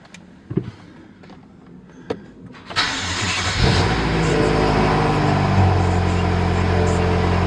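Inside a 2014 BMW M5, a few faint clicks come first, then the engine cranks and fires, swelling into a loud, steady idle that drones on to the end.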